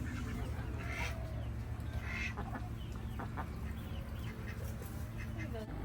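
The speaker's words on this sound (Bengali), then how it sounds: "এইসব মুরগি ছাড়া এই ফার্মে হাঁসও আছে দেখুন" Chickens cluck and ducks call on a farm in the USA, their faint mixed voices sitting under a steady low hum and broad background noise.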